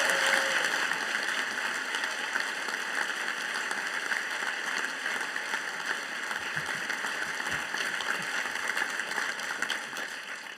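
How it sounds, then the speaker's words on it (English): Audience applauding at a university graduation ceremony, a steady sustained wash of many hands clapping in a large hall, gradually fading toward the end. "And a big round of applause."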